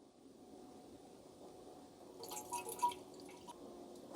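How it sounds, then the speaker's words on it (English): Faint trickling and dripping as distilled water is poured into an Aston Martin DB7 radiator, quiet at first, then a brief burst of splashy pouring before settling back to a soft trickle. "just going to add distilled water into our radiator system and see if anything leaks out"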